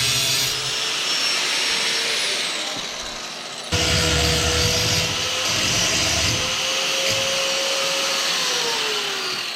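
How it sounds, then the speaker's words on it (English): Power tool cutting through a short piece of trailer chain, a loud continuous grinding whine with a brief dip and restart partway through, close and without talk. "I have to cut off this little bit of chain here."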